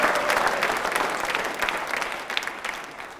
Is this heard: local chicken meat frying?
no